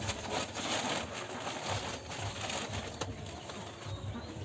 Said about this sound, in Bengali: কিছু ভালো জাতের কবুতরই আমরা নিয়ে আসছি